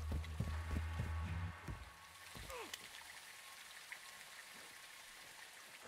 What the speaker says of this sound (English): It's raining fucking hard.